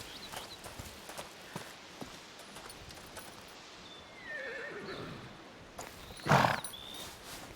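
A horse in A Plague Tale: Requiem lets out a loud, close whinny near the end, after soft hoof clip-clops and footsteps against a quiet forest ambience.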